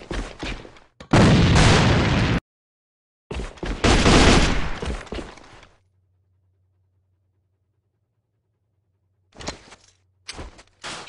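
Grenade blasts in the video game AVA, loud booming bursts with gritty debris tails, two long ones early then short sharp hits near the end, separated by near silence and a low hum.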